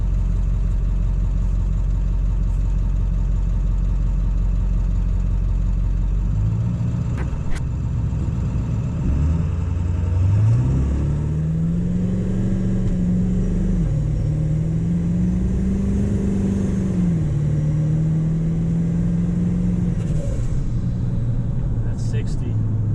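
A Ford 7.3 Powerstroke diesel pickup idles with a deep rumble, then launches and pulls hard as the engine note climbs and dips through several gear changes. The engine is loud and close the whole time.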